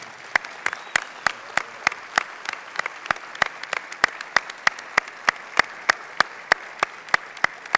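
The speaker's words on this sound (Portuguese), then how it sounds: "Eu acho que merece uma salva de palmas muito mais viva, não é?" Audience applause at a literary festival panel, a fairly sparse room clapping with distinct sharp individual claps in a quick uneven rhythm, moderately loud and close, with no talk over it.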